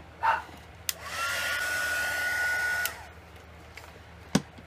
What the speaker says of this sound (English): Now I'm going to give it a little hit with the heat gun.